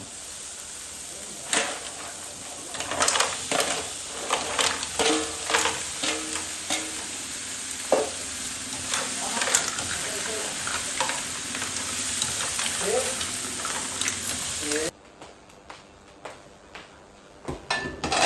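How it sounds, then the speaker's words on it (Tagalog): Mussels go into a hot pan and sizzle loudly while a utensil scrapes and stirs in repeated uneven strokes, with clinks of the pan, close by and without talk. The frying drops abruptly near the end. "Lagay na natin itong tahong natin."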